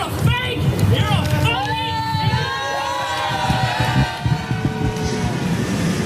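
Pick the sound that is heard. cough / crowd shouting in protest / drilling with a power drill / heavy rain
crowd shouting in protest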